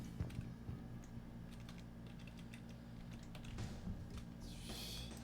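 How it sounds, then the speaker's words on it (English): Steady typing on a computer keyboard, a quick run of close, light key clicks with a low background hum and no talking. "I'm just typing out a promo real quick."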